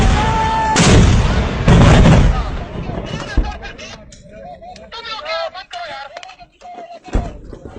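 Army artillery and gunfire at a Pakistani military firing exercise: two loud, booming blasts early on, followed by fainter scattered shots and rumble, with voices talking throughout.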